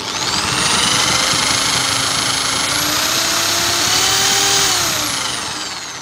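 A steady high-pitched electric drill whine as it spins a motor, running continuously, its pitch rising and falling slightly, loud and close with no talking.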